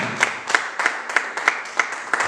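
A church congregation claps in steady unison, about seven crisp, evenly spaced claps at a brisk rhythm, moderately close, with faint murmuring beneath.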